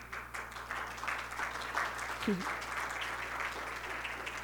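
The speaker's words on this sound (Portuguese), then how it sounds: "Salva de palmas, por favor." Audience applause at a panel event on connectivity and education, a soft, distant patter of clapping over a low steady hum, with voices faintly present beneath it.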